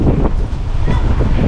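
Loud wind buffeting a microphone, a continuous low rumble with gusty fluctuations throughout.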